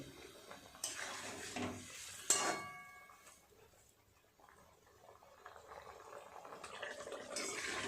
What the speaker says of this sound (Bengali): মাছ দিয়ে আরও 2-3 মিনিট ফুটিয়ে নিলাম